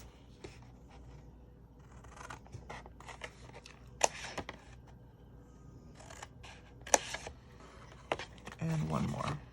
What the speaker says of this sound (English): I'm going to go ahead and trim on either side of that score mark